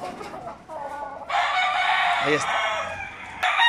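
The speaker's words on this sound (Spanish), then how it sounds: "Ahí lo pueden observar, una bestia de gallo, un gallo muy bien hecho." A rooster crows once, loud and close, in a long strained call among farm fowl, with someone speaking briefly before and just after it.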